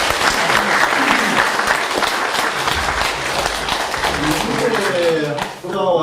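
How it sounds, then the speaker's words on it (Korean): Audience at a Korean social welfare academic conference applauds with dense, steady clapping that fills the hall, then fades as a voice begins speaking near the end. "박수로."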